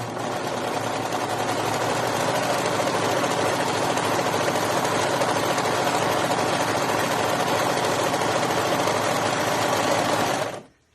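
A sewing machine stitches steadily down the flare seam of a garment for about ten and a half seconds, a loud continuous whir that cuts off abruptly at the end.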